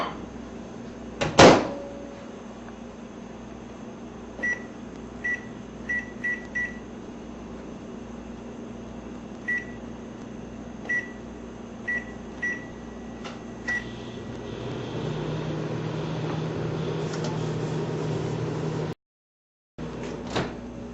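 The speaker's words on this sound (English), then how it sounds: "I'm just going to heat it a little bit more in the microwave and check it again." A microwave oven reheating bread: a door clunk, then a string of short keypad beeps, followed by the steady hum of the running oven, close and alone in a quiet kitchen.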